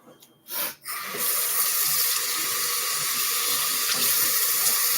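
Tap water gushes steadily into a kitchen sink for handwashing, a faucet turning on after a few brief clunks and then running loud and constant to the end.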